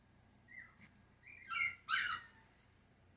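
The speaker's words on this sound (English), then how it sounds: "Please excuse my puppy in the background." A puppy whimpers from inside its crate, letting out a few high, thin whines that rise to two louder cries near the end. The sound comes from a short distance away, over a quiet room.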